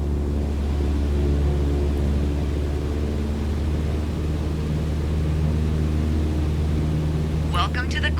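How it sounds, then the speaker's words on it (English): Airplane engine at full throttle during a climb in Microsoft Flight Simulator, a loud, steady droning hum with a constant low tone that runs the whole time without letup. "go full throttle and start climbing"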